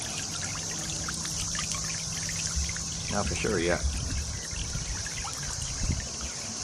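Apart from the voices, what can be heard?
solar birdbath fountain trickling water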